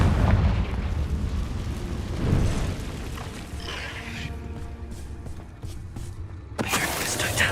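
Confringo fire spell explosions in the video game Hogwarts Legacy: a loud, rumbling blast that rolls on steadily, then a fresh sharp burst near the end.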